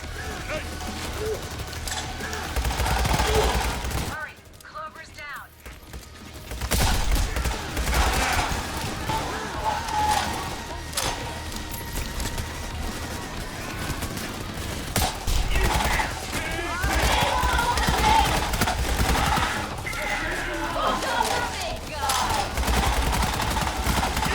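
Rifle gunfire during a police assault in Payday 3, dense rattling bursts of shots mixed with mechanical clicks, sustained and fairly loud with a brief lull, then resuming, with voices talking over it.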